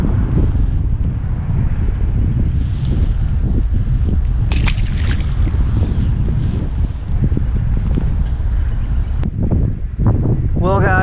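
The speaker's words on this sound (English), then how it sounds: "this wind is getting really brutal" Strong gusting wind buffets the microphone beside a New Jersey pond on a blustery day, a loud continuous low roar with rumbling surges throughout, and a voice briefly speaks near the end.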